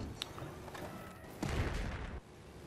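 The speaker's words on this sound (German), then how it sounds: "Ich schieß doch mal" Bursts of gunfire from the multiplayer video game Battlefield 4 on the Paracel Storm map, dense and overlapping like a battle fusillade, with a louder volley surging midway and then dropping off.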